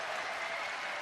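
A curling crowd at the 2015 World Men's Championship applauds Canada's steal of two points, a dense, steady wash of clapping through the full short stretch.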